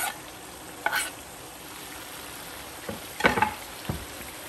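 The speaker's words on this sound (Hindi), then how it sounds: "अब हम इसमें हमने ये 3-4 छोटी ग्रीन चिली काटी थी वो डाल देंगे।" Chopped green chillies hit keema frying on a tawa, giving a steady sizzle with scraping stir strokes, one near the start and a louder cluster later, close up with no talk.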